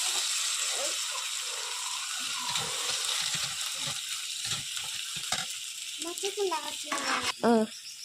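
Tomatoes added to hot oil with ginger-garlic paste in a village-style kitchen, frying with a continuous sizzle and some clatter, with a few brief voice-like sounds toward the end.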